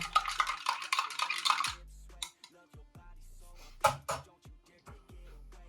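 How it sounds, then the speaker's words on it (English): A spoon stirs pre-workout powder drink in a glass, a quick run of rapid metallic clinks and scrapes, then a few separate taps and knocks, close and clear. "See how it mixes. Doing it the old British way with the spoon."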